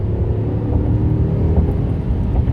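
A 2017 Dodge Ram 1500 Lone Star Edition pickup's 5.7-liter engine accelerates with a steady, heavy roar, rumbling continuously, loud and close, with a deep low drone and no pauses.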